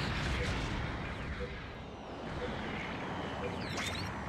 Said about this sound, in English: Long-range support fire incoming!